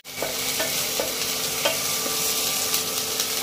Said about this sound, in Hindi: प्याज को हमको हल्का ब्राउन होने तक भूनना है।